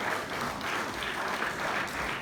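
Steady, moderately distant applause from a crowd at the presentation of a local election candidate list, continuous hand clapping throughout with no talk.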